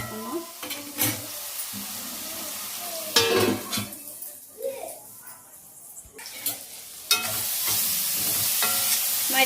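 Spoon stirring and scraping through tomato and tamarind fish curry in a pan, intermittent clatters with soft sizzling and a brief water-like hiss, close by, with a voice talking at times.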